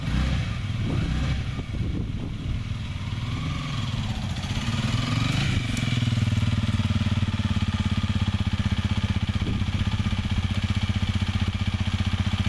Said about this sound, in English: I now own a motorcycle